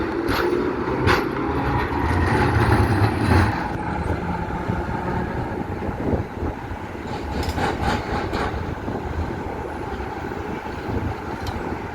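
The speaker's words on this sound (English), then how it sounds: "it is the oldest surviving electric tram from Gdańsk" Historic Bergmann electric tram from Gdańsk, built in 1927, running on rails, a steady rumbling roll with rattling and squealing wheel noise throughout, fairly loud and close, with no talk.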